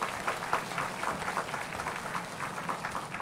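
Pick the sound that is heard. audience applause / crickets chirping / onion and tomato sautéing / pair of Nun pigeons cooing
audience applause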